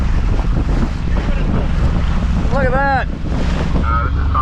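A sailboat runs downwind under jib with the motor running at the end of the season near Carriacou and Grenada. Heavy, steady wind rumble buffets the microphone throughout, and a person speaks briefly while a few whistling tones rise over it.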